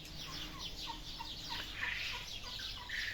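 Turkeys raised for meat gobbling, a run of rapid, warbling calls repeated in quick succession at moderate distance over a steady background hiss.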